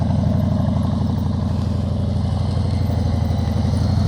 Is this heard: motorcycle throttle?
yes